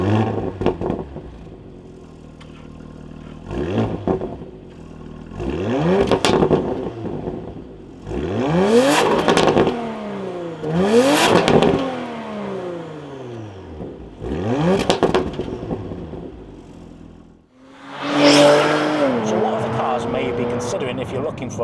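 Porsche Macan GTS engine revved repeatedly, a series of sharp throttle blips rising and falling in pitch, each louder in the middle, then a sustained acceleration near the end, close and prominent with no talk.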